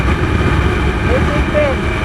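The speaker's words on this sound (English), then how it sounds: "Wow, the wind blast." Wind roars in a loud, steady rush against a rider of a 2001 TVS-Suzuki Max 100R motorcycle on the move, with the small engine droning underneath throughout.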